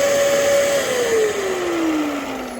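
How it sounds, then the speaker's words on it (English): A Dyson DC14 upright vacuum cleaner runs loudly and steadily nearby, its motor whine dropping gradually in pitch as pressure on the brush roll slows it, with no talk over it. "See, just the slightest bit of pressure on the brush stops the vacuum from spinning."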